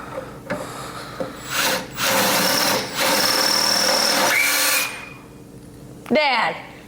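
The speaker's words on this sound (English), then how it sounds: "Drill these 3 holes here." A power drill bores holes during a Vintage Air A/C install in a Square Body truck, running in several close, loud whirring bursts of a few seconds each with brief pauses between.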